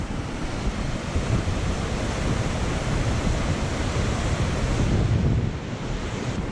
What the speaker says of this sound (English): This is a pretty fast torrent of water coming through here.